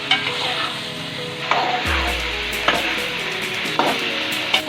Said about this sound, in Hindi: अब हम इसको अच्छी तरह भूनेंगे इसमें ताकि इसका कलर भी चेंज हो जाए